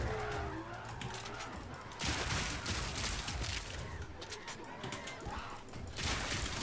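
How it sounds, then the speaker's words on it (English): Grenade blasts from a gas grenade and an explosive grenade in Path of Exile 2, with a dense layered burst of bangs and crackling debris. Loud surges come near two and six seconds. "I like those explosions from the gas grenade and also from this explosive"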